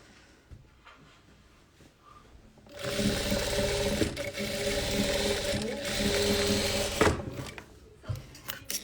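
A sewing machine stitches a patchwork quilt, whirring steadily and loudly for several seconds at close range before stopping, with quiet handling sounds before and after.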